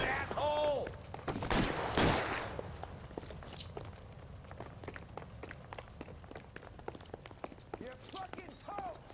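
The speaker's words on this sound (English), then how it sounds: "We're just gonna shoot the looters." Gunfire at looters in L.A. Noire comes as a burst of loud shots early on, then scattered lighter cracks and footstep-like clicks over ambient game sound, with a voice speaking near the start.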